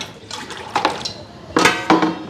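Water poured over spinach greens to rinse out sand, with splashing bursts at about 0.3, 0.8, 1.6 and 1.9 seconds over a quiet background and faint clinks of dishes nearby.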